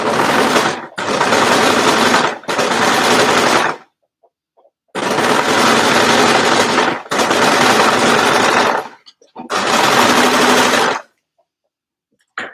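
Overlocker stitching with its cutting knife engaged while sewing an edge-to-edge cardigan: three loud, steady bursts of rapid mechanical whirring and clatter, separated by short pauses, with faint handling noise between runs.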